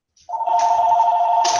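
An unplugged landline telephone giving a steady electronic ring, one sustained tone that starts abruptly and holds loud and close, brightening twice partway through, with no talk over it.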